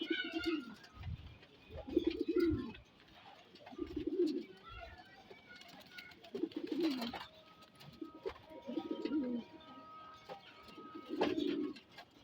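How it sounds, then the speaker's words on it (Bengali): Silver pigeons kept in a home loft coo in low, rolling bursts that repeat every couple of seconds, close and fairly quiet, with faint chirps and background noise between calls. "কবুতর"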